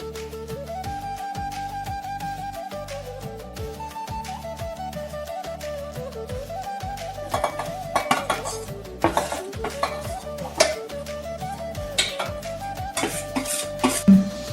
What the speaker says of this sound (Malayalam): ഈ കളറിൽ തേങ്ങ നല്ല വറുക്കണം.